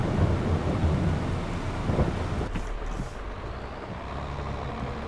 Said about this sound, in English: This rain should clear soon, I hope. It's quite grim.